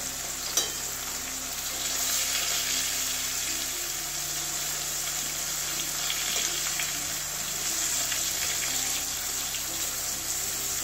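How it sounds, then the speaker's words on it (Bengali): Pieces of teasel gourd (kakrol) fry lightly in a pan with a steady, crackling sizzle that continues for about eleven seconds. The sound is close and even, with no speech. "হালকা ভেজে নেব, কাঁকরোলটা যাতে সিদ্ধ হয় সেভাবে ভাজবো"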